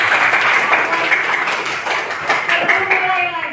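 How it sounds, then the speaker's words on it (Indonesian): A group of teachers and students in a classroom supervision session claps together, a steady patter of hands that fades toward the end. "Tepuk tangan dulu."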